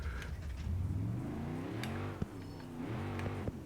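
A car engine in the BeamNG driving game running at idle while the car creeps forward, a low, faint, steady mechanical hum with slight pitch wavering and a couple of soft clicks.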